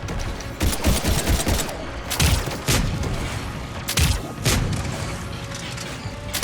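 Video game gunfire comes in loud, close bursts of sharp shots with a few heavy booms, arriving in uneven clusters over a steady background of game noise.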